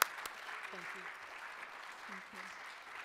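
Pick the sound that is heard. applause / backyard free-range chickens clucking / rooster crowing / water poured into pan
applause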